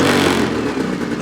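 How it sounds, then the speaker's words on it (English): A 2026 Ski-Doo full-size snowmobile engine, with no turbo, revs briefly and loudly. A faint high whistle rises above the dense engine roar. "Hear that little whistle? I don't know if that's something with the intake or what."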